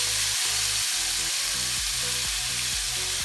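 Tofu frying in coconut oil until crisp, a steady loud sizzle and crackle with low bubbling pulses repeating throughout, no voices.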